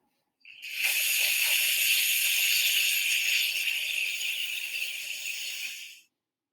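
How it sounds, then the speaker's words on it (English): A steady rushing hiss that starts abruptly, holds evenly for several seconds, then cuts off; no voices. "We think sound number 1 sounds like running water."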